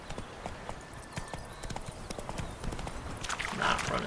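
In The Witcher 3: Wild Hunt, a horse's hooves clip-clop in a steady galloping rhythm, close and continuous, with a player talking over it and a brief louder burst near the end.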